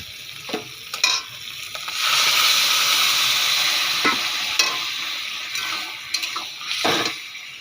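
Boiled ridge gourd and potato drop into a pan of fried spice paste for a fish-head curry, setting off a loud, rushing sizzle that slowly fades, with clanks of a spatula stirring before and after; no voices.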